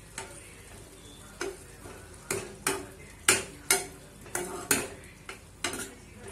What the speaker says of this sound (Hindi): इहनूं मिक्स कर देंगे चंगी तरह